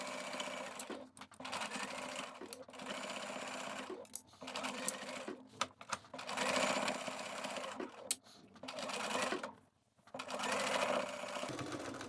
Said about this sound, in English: You can use a regular straight stitch for this. I've marked the dart legs, and I'm just going to follow that line.